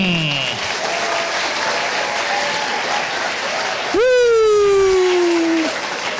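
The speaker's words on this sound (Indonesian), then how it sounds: "Kita undang yang pertama dan berikan tepuk tangan yang meriah untuk Fikram." A studio audience on an Indonesian talk show breaks into loud applause as a guest is welcomed, a dense burst of clapping that swells and holds for about two seconds, with a sustained musical tone rising underneath.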